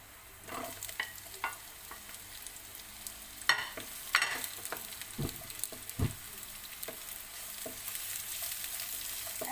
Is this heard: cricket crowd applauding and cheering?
no